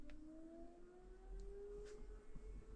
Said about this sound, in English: It's the fire alarm or for the volunteer fire department.